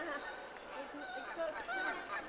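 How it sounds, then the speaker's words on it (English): Geese honking in scattered bursts at a moderate distance outdoors at a birthday party, mixed with faint background chatter. "See some geese."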